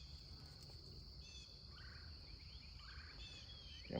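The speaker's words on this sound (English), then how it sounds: "Damn crickets are coming out by the bunches." Crickets near a tiny pond keep up a faint, steady, high-pitched trill, with a few soft bird chirps and low outdoor rumble beneath.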